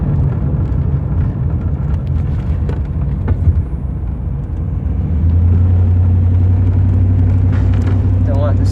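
A 1995 Chevy Camaro Z28 with the LT1 V8 cruising on the road, its low engine rumble and road noise steady throughout, swelling into a deeper sustained drone near the end, with a person talking over it.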